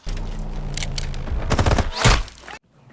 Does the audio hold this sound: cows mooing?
no